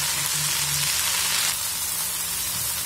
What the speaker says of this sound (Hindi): इसको लगातार चलाते हुए भून लेंगे।